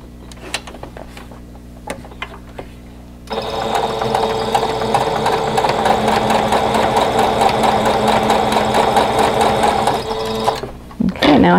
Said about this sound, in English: so we're going to put them right sides together, and sew